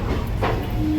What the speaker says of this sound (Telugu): ట్రైన్ కదులుతుంది